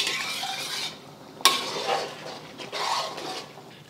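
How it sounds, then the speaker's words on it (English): A sauce thickened with cornstarch slurry being stirred in a pan with ground beef and zucchini, a soft simmering sizzle with a utensil scraping and one sharp clink against the pan, close and without speech. "And adding the cornstarch slurry back in. Not back in, just add it in. And give it a stir."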